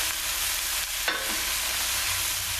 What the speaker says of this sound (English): a few minutes of sauteing the onions